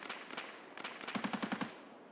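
Automatic gunfire aimed at a BTR armored vehicle in a first-person shooter game, a quiet scattered burst followed by a tight rhythmic string of about six rapid shots, with no talking over it.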